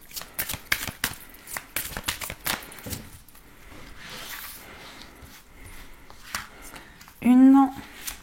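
Tarot cards shuffled for a card reading, repeated quick riffling bursts close up in the first seconds, then softer handling, followed by a brief voiced sound near the end.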